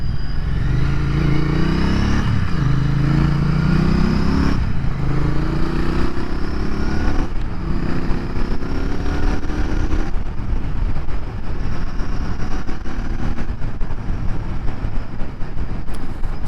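A Royal Enfield Interceptor 650 motorcycle rides on a wet dual carriageway, its engine note rising and falling through gear changes under loud, constant wind and road roar.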